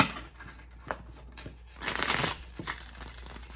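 Tarot cards being shuffled by hand, soft papery riffles and slides with a louder brushing flurry in the middle, close and quiet with no talking.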